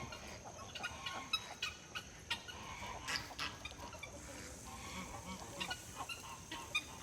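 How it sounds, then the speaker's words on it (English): A flock of guinea fowl calls outdoors, with repeated raspy, honking squawks scattered irregularly over a constant background hiss, moderately distant and fairly faint. "There's a mob of guineas right there."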